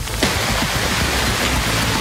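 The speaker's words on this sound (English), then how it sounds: "Rain and lightning continues to pummel this entire area." Heavy rain lashing down during a storm with lightning and hail, a dense, loud, unbroken hiss of downpour with a few low rumbles beneath, no voices.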